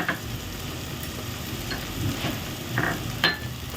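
Onion, tomato and Malvani masala sautéing in a pan, giving a close, steady sizzle broken by several scraping stirs of a spatula, with no talking.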